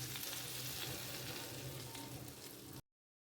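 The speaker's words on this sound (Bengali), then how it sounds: "এবার এই তরকাটা ঢেলে দেব ডালের উপরে।" Hot tadka hits dal with a loud, even sizzle that runs for a few seconds and then stops abruptly.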